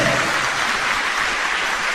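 A church congregation applauds, dense, steady clapping from many hands filling the room at full volume throughout.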